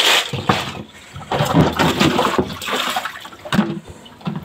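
Gondofli clams rubbed and swished around in a bowl of water to wash out the sand, irregular sloshing and gritty splashes in uneven bursts close by.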